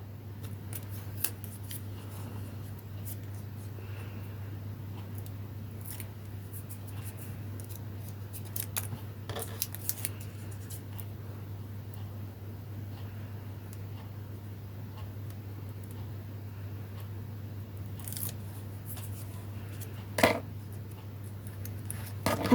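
Several quick, faint snips of small scissors, scattered and brief, over a steady low hum in a quiet room.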